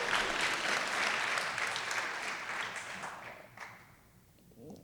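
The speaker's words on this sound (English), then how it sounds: "You can clap." An audience claps in a dense burst of applause that holds for a few seconds, then gradually thins and fades out.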